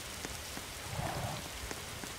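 Continuous video game rain pours down, a dense hiss of drops hitting surfaces, with a few sharper drips standing out briefly.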